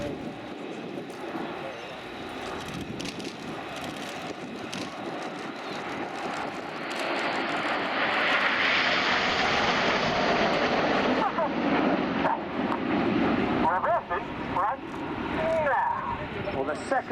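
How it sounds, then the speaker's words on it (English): Eurofighter Typhoon jet at an air show, a broad roaring rush of engine noise that swells from distant to loud and full as it passes, with a public-address commentator talking over it. "This is Typhoon."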